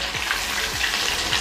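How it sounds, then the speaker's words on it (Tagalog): Breaded mozzarella sticks fry in hot oil, producing a steady, close, bubbling sizzle with a continuous hiss and no voices. "Sobrang bilis lang niya pag ipiprito din. Basta make sure na mainit na yung mantika bago nyo siya ilagay."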